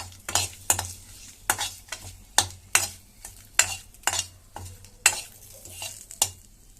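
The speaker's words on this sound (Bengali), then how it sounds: "প্রথমে আমি ঘি দিয়া পেঁয়াজটি ফ্রাই করছে" Onions stirred and frying in ghee with bay leaf, a spoon scraping the pan in a steady series of sharp strokes over a soft sizzle, close and clear with no talking.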